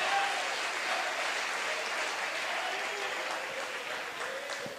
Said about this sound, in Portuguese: Aplauda Jesus de Nazaré.